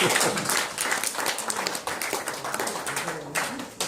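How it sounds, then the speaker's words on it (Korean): An audience at a history society's anniversary ceremony breaks into applause, a loud, dense burst of clapping that holds steady for several seconds and eases slightly at the end. "박수 한번 주세요."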